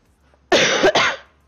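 A woman who is feeling a little sick coughs once, a loud, close double burst with a short break in the middle, alone against near silence.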